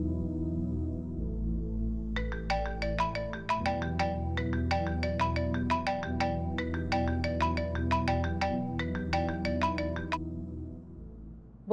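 A phone ringtone plays for about eight seconds, a bright repeating melodic pattern over a low steady background, with no talking.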